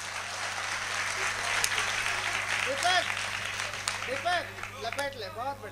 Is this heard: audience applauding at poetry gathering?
yes